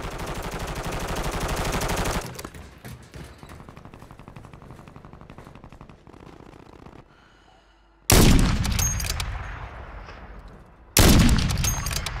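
Video game gunfire from a tense sniper-heavy match: bursts of loud, sharp automatic fire open the clip, give way to quieter rattling shots, then two sudden loud blasts ring out near the end, each decaying over a second or two.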